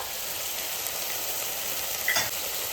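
Ground dried chillies, cumin, ginger and garlic with onion, turmeric and chilli powder fry hard in a pan, a loud continuous hissing sizzle with a brief stirring scrape near the end.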